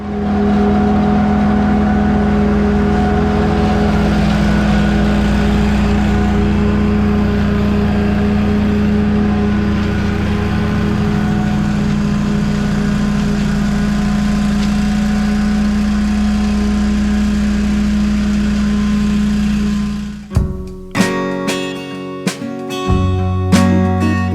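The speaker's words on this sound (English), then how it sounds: "Now it's time to vacuum the lawn, get all the debris out of it" Walker mower vacuuming debris from a lawn, a loud steady engine drone with whirring hum close by, cutting off near the end into a few clunks and rattles.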